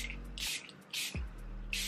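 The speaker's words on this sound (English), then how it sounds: "This is a fixing spray." Revolution Super Dewy setting spray misted onto a face in a few short hissing spritzes with quiet pauses between, close and fairly soft.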